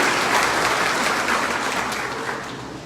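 Sustained, dense applause rolls through a village assembly (gram sabha) in Channanwal, Barnala, held with Bhagwant Mann present. It stays loud throughout and eases off slightly toward the end.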